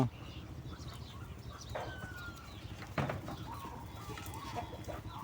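Chickens cluck faintly at a distance as they take the calves' feed in a farmyard, with soft, scattered bird calls over a low background hum.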